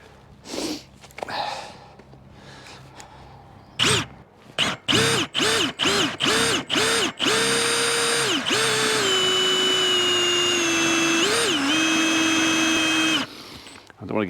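Cordless drill-driver driving a bolt into place: several short trigger bursts, then a long sustained whining run with slight pitch dips, loud and close, with brief pauses and breathing noises between.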